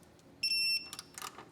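A torque wrench clicks off with a brief high electronic beep at 10 foot-pounds while tightening an oil filter during a Ferrari oil change, followed by faint metallic ticks, quiet and close.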